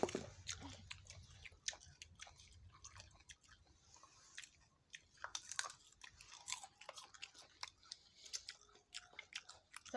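Someone chews jujube fruit with salt, close and crisp: repeated crunchy bites and wet, squishy mastication in an irregular rhythm, with no talking.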